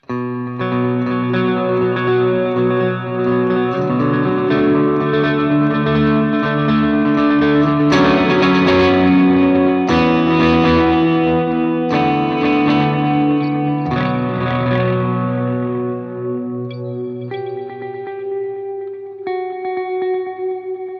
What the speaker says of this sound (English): So it's definitely a wackier delay sound.